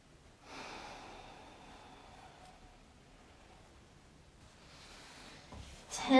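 Slow, deep breaths drawn during a pelvic floor stretch-and-strengthen routine at a wall, each a soft, airy rush of noise, fairly close, ending in a sharper, louder exhale.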